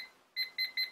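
A kitchen-style timer alarm goes off three times in quick succession, sharp bright beeps evenly spaced after a moment of quiet, close and clear with no talking during a home card-making craft session.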